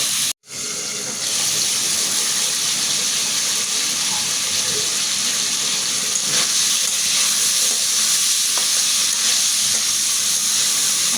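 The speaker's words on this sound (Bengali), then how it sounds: "মশলার সাথে কিন্তু সুন্দর করে এটা কষিয়ে নিচ্ছি" Ash gourd being sautéed with spices in a pan, a steady, loud hissing sizzle that starts after a brief silent gap and continues evenly throughout, with no talk.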